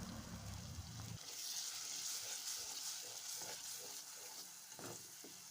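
A stew sizzles and bubbles in a pot just after gizzard stock is poured in, with a wet splash at the start, then a steady, soft frying hiss with a few faint stirring knocks.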